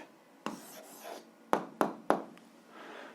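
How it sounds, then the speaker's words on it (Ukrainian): A pen writes an answer on paper, giving soft scratchy strokes and several sharp taps as marks are made, close and quiet with no talking. "записуємо відповідь, пишемо відповідь"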